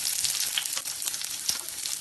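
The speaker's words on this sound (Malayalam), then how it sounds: "ഇതിലേക്ക് കുറച്ച് ചെറിയ ഉള്ളി മുറിച്ച് ചേർക്കാം" Chopped small shallots hit hot sesame oil with popped mustard seeds, producing a loud, continuous sizzle with occasional stirring scrapes, close up and without voices.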